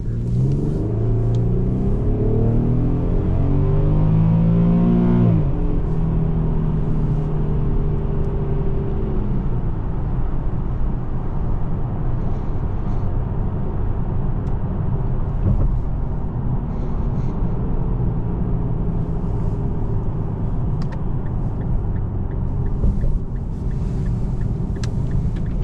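A 2019 Infiniti Q70's naturally aspirated V6, redlining at 7,500 RPM, revs hard and climbs in pitch, then drops back to a steady, throaty rumble that carries on for the rest of the clip.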